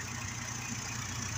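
A car engine idles quietly and steadily while its cooling system is bled of air after several minutes of running. The low, even rumble stays faint throughout.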